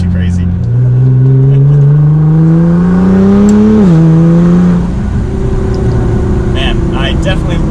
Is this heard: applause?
no